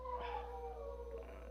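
Several dogs howl and whimper in wavering, rising and falling cries for a second and a half over a constant low hum, with no talk.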